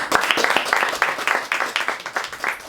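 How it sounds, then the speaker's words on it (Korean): An audience gives warm applause after a Korean academy lecture on the traditional singing style of Junggoje, with many hands clapping continuously and evenly at moderate loudness and no talk over it. "다시 한번 뜨거운 박수 부탁드립니다"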